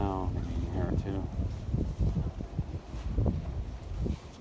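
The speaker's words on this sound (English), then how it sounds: "A little breeze going through and occasional gusts." Wind gusts during a New York City blizzard buffet the microphone in uneven, rumbling bursts, with a light breeze between gusts and a voice speaking briefly at the start.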